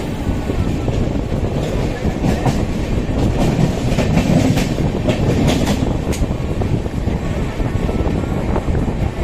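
The 12219 LTT–Secunderabad Duronto Express runs through Lingampalli without stopping, a loud, steady onboard roar with rhythmic wheel clatter, wind buffeting and scattered sharp rail clanks, while a voice speaks partway through.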